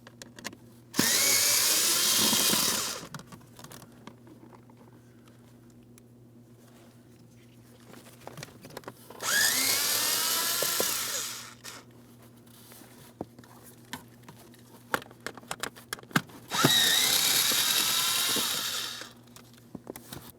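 A power drill with an 8 mm socket backs out the blower motor mounting screws on a 2003-2008 Toyota Matrix. There are three loud whirring bursts of about two seconds each, with quiet gaps full of small clicks and handling noises between them.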